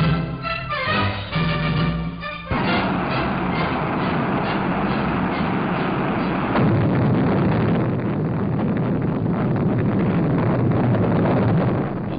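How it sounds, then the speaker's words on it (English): A 60-ton Juno rocket launching the Pioneer 4 space probe in 1959 roars as a continuous, heavy broadband rumble, loud and sustained throughout, with a brief shift and swell in intensity partway through. "the 60-ton Juno is ready for firing"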